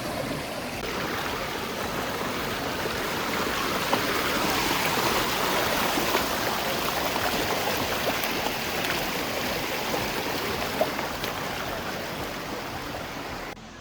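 Steady rush of water flowing down the Ayn Khor waterfall stream, a dense continuous wash of splashing that holds evenly throughout with no voices.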